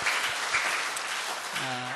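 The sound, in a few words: church congregation applause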